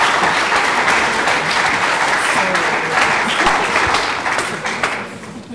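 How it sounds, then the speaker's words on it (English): An audience at a stage event applauds loudly and steadily as speakers are welcomed on stage, many hands clapping close together in a full, sustained burst that tapers slightly toward the end. "Can we give them a round of applause, please?"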